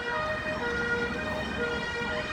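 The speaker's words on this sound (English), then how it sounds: "a twin tone siren. I've not heard a twin tone siren for a while." Twin-tone emergency siren wailing steadily in the distance on a residential road, alternating between two pitches over faint traffic rumble.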